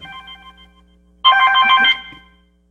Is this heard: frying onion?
no